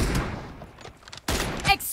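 Sharp, heavy sniper-rifle reports from an M24 in a mobile shooter game, one short blast early and another louder burst near the end, with quieter game noise between and a voice briefly under it.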